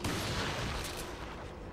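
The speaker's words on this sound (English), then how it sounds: "I decided I'm going to use the shotgun because it kills them real good" Shotgun blasts from Resident Evil 4 on Professional difficulty, heavy booming gunfire filling the whole moment with a dense, loud burst and no voices over it.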